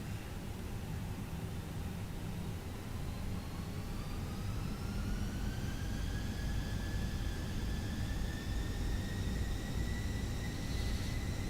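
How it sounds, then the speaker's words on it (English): A320 jet engines spool up in Microsoft Flight Simulator, a steady broadband roar with rising tonal whines that climb gradually in pitch over several seconds. "So we're going to put the thrust up."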